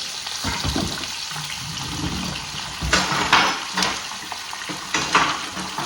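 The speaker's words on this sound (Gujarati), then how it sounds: "હવે આની અંદર સૌથી પહેલાં જશે મરચાં અને એના મારી જિંજર ગાર્લિકની પેસ્ટ" Chillies and ginger-garlic paste fry in hot oil for eggplant bharta, a close crackling sizzle stirred with a spoon, with clinks and scrapes against the pan and louder bursts partway through.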